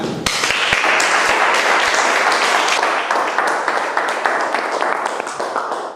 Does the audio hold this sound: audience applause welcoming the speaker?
yes